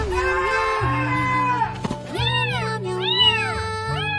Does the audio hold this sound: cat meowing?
yes